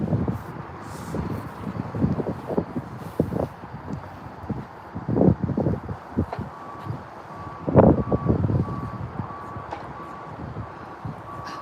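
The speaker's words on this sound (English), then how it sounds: "Beep, beep, beep, beep, beep, beep, beep" A truck's reversing alarm beeps in a steady, evenly spaced series outside a detention center on Broadview's Indiana Avenue near Chicago, starting partway through and sounding moderately distant under gusty wind noise and low traffic rumble.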